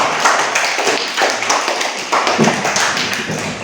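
A class applauds together, many hands clapping in a loud, dense, continuous patter that lasts several seconds without voices.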